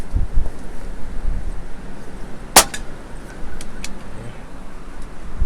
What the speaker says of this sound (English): You can hear and see these winds, like I said, 20 to 30 miles per hour gusts with a steady 10 to 15.